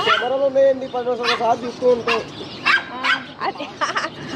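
A small dog yips and barks repeatedly close by in short bursts, with people talking over and between the barks.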